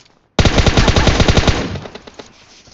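Automatic gunfire in the video game PUBG: a sudden, loud, rapid burst of about a dozen close shots that trails off into echoing decay.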